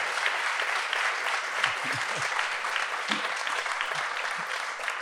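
Sustained clapping from a poetry festival audience at a panel session, a dense, even wash of hands heard at moderate distance without a break.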